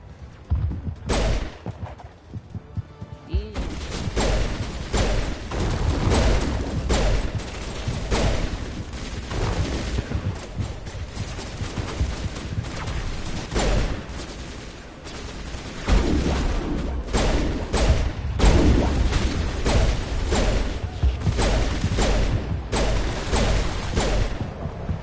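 Video-game gunfire shooting enemies rattles in dense, repeated bursts and loud single shots for a sustained stretch, punctuated by booming impacts.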